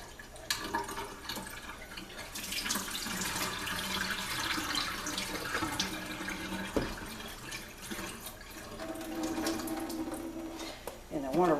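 Steady running tap water splashes continuously for several seconds over brined salmon being rinsed, with small clinks and a brief louder splash near the end.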